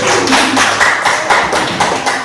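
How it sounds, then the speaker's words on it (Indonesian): An audience at a school positive-culture teacher presentation claps together, with dense, slightly rhythmic hand claps throughout, close and fairly loud. "Beri tepuk tangan Bapak Ibu."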